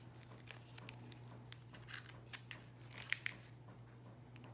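Scissors snip through a plastic page protector in a series of faint, close, crisp cuts over a low background hum.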